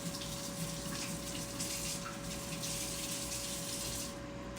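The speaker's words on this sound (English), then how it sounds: "I'm going to wash my hands real quick" Running tap water pours steadily into a kitchen sink while hands are washed under it, a continuous close hiss and splash with no talking.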